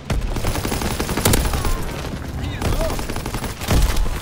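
Rapid gunfire in the Call of Duty WWII video game, dense volleys of shots with heavy, punchy bursts near the start and end, loud and close in a busy battle mix.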